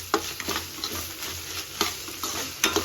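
Ginger garlic paste sizzles and fries in a pan for a cauliflower gravy, with steady crackle broken by several stirring scrapes, close and moderately loud, no voices.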